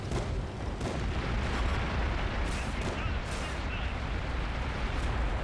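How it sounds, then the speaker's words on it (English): Artillery fire support booms in World of Tanks, a dense run of blasts and gunfire over a constant loud rumble, with sharp reports scattered throughout. "Let's provide some fire support."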